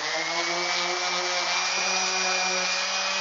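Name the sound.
sanding the outside of a wooden bluebird house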